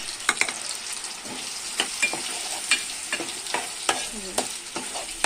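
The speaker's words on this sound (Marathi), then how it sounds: "चांगलं परतून घ्यायचं आहे मसाले। हे आहे खोबऱ्याचं वाटण" Spices and ground coconut paste sauté in a pan for a fish fry and vegetable dish, with a soft continuous sizzle broken by clicking spatula stirs against the pan, close but fairly quiet, no one speaking.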